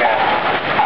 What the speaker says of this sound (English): size of these hailstones, dude. Golf balls all over the yard.